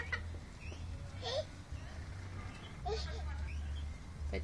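Hens cluck softly in short bursts under a steady low hum, with faint chatter of people nearby in a park.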